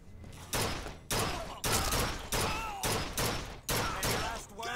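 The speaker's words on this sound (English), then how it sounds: "Keep firing." Gunfire in BioShock Infinite, played on PC at hard difficulty, comes as a steady run of loud, dense bursts, about seven volleys in under five seconds, with brief gaps and faint game sounds between them.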